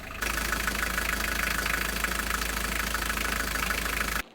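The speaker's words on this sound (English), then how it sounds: "We're just turning on the engines just in case" A sailboat's inboard engines start and settle into a steady, loud idle, with a continuous low rumble and broad mechanical hum that runs unbroken for about four seconds before cutting off.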